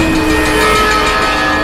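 A train rumbles past in a video game, a loud continuous mechanical roar with steady tonal hums, close and alone without speech for the brief moment.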